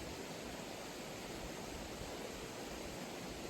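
Creek water flowing under a bridge, a steady broadband rushing wash that stays even and continuous throughout, with no voices.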